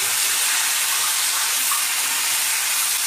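Water added to crab cooking in a hot kadai, producing a loud, close, continuous hissing rush of steam and sizzle that stays even throughout without speech.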